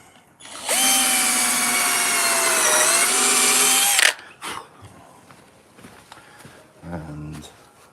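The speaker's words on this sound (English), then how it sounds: "and just drill it where you've marked it." A power drill bores into a wooden birdhouse at marked spots, a loud, steady whine lasting about three and a half seconds with a slight dip in pitch, then stopping, followed by quieter handling clatter and a brief low thump near the end.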